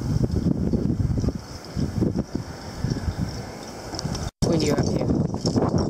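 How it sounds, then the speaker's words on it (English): Strong storm wind gusts buffet an outdoor microphone with deep, uneven rumbling bursts that surge and drop irregularly, cutting out briefly near the end. "Windy up here."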